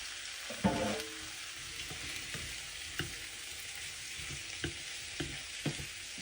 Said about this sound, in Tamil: இந்த உருளைக்கிழங்கு நல்லா பிரட்டி விடுவேன்